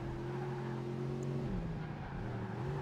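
A race car engine in Project Gotham Racing 2 during a street race, a steady droning tone that drops in pitch around mid-clip as the car brakes for a corner, with a faint hiss of tires underneath.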